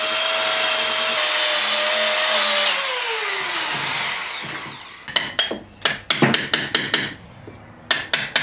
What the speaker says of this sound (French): on va découper pour incruster la fenêtre